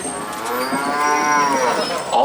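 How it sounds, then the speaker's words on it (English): Ankole cattle on a safari ride mooing, one long, close, resonant low moo that swells and holds for about two seconds. "they moo just like other cows"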